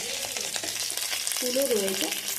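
Young neem leaves with their flowers frying in oil, a steady close crackling sizzle that continues throughout, with a voice speaking softly underneath.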